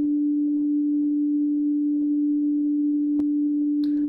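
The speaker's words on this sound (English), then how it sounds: "That's quite a nice way of creating this auto-filtery kind of sound, or auto-pan" A steady synthesizer tone, auto-panned by an LFO so it sweeps between left and right, holds level and continuous, with a couple of faint clicks near the end.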